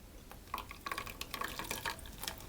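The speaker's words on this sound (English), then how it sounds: "I'm going to actually pour the, or some of the water through" Water poured through a kitchen sieve over passion fruit pulp gives a soft, close trickle with small splashes and drips, faint and steady for a couple of seconds.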